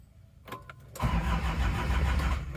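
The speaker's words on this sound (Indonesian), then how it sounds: "Kita starter dulu mobil ini." A starter motor cranks twice briefly, then a Panther Miyabi engine, freshly overhauled and with glow plugs, catches and settles into a loud, steady idle.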